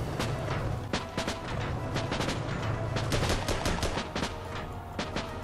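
Rapid gunfire in the Armored Battle Crew tank game, a dense run of sharp cracks and booms in quick irregular bursts over a rumbling background, close and loud.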